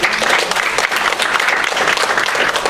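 A room of colleagues at a KW sales meeting breaks into loud, sustained applause for Ed, a dense roar of many hands clapping close and continuous.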